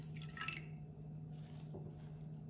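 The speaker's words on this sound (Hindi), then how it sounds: "ये पानी इसमें डाल देना है" Water trickles and drips into a pot while an immunity-boosting kadha of ginger, tulsi leaves, cloves, black pepper and lemon is prepared, a soft close pour with light splashes and no talking.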